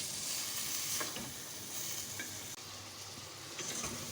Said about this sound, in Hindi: अच्छे से फ्राई करेंगे 1 से 2 मिनट के लिए।